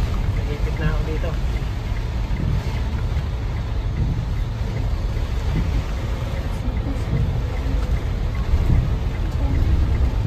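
Rain on a 2,000 kg Lalamove delivery truck during a drive, a dense steady drumming with low road rumble, constant and fairly loud throughout.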